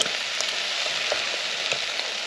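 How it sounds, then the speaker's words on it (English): A steady, close hiss and crackle as passata goes into a hot frying pan for chipotle turkey meatballs, sizzling evenly throughout with faint pops and no talking. "So now I'm going to add my passata. I'm going to add the whole lot."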